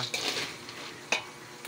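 Peanuts roasting in a pan for homemade peanut butter, stirred with a utensil: soft rustling scrapes at the start, then a sharp clink partway through over a quiet background.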